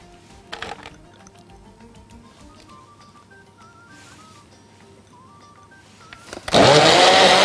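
After quiet background noises, a blender suddenly starts up loudly near the end, crushing ice and grinding harshly at full power.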